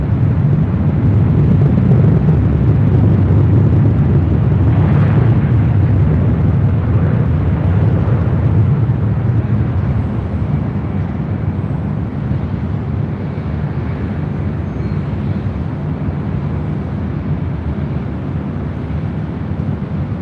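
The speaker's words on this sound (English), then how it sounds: "focus in on the Hawaiian A330 now," A Hawaiian Airlines Airbus A330 approaching runway 24 left at LAX, a loud, sustained low jet rumble that holds steady and eases slightly over the span, with no talk.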